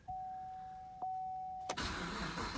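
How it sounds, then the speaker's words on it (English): A 2015 Chevrolet Camaro SS coupe engine starting: a steady dashboard chime sounds, then the engine cranks and fires into a loud, full rumble, heard from inside the car. "start it up. Let you see the, get my seat up here a little bit. Let you see the mouse, listen to the engine rumble."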